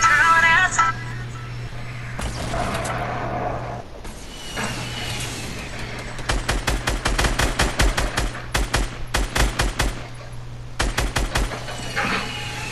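Rapid bursts of automatic gunfire in a Fortnite squads match, repeated volleys of sharp shots with a steady engine-like hum underneath and a voice talking at times.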